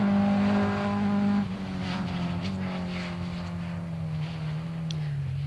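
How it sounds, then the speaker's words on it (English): Rally car number 41, on a daytime stage, roars past close by with its engine note sliding down as it goes by, then fades into a steady droning exhaust. "Car number 41 just whizzing past."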